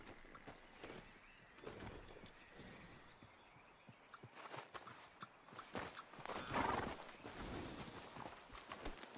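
Horse hooves clip-clop at a walking pace in Red Dead Redemption 2, a steady uneven patter mixed with ambient game sounds, briefly louder and busier near the end.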